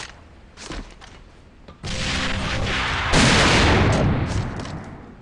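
Grenade blasts and gunfire in the shooter game AVA on an airplane map: faint shots at first, then a heavy explosion that turns into a sustained, loud burst of fire and blast noise.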